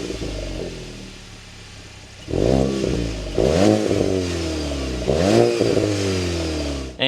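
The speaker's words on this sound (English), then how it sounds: "let's start this up, take a listen to that 4-cylinder turbo" A VW Golf GTI's 4-cylinder turbo engine cranks and starts after a quiet lead-in, followed by a few sharp revving blips that rise and fall in steady pulses, close and loud.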